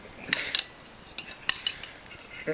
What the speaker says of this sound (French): On se saisit donc de la cuillère dans la main droite et on découpe un petit morceau de la banane flambée